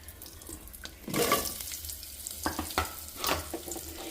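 Sliced onions and green chillies drop into hot tempering with curry leaves in a pan for a tamarind curry, bursting into a sudden sizzle followed by stirring scrapes and crackles, close and moderately loud.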